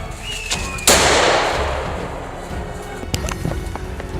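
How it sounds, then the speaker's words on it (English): A single sharp gunshot cracks out at a charging wild boar in a forest, loud and close, followed by a long decaying echo, with a few faint clicks and rustles afterward. "Without missing a beat, I squeezed the trigger. One powerful shot was all it took."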